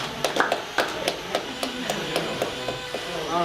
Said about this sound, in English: We'll give Team 4 one more round of applause